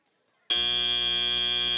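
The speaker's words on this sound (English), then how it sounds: "And as that buzzer sounds" The end-of-match buzzer at a FIRST Tech Challenge robotics championship, a loud, steady electronic tone that cuts in abruptly after a brief near-silence and holds.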